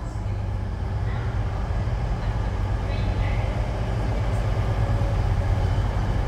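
Freightliner freight train passing through Sheffield station, a loud continuous low rumble of wagons rolling by nearby, steady and unbroken throughout.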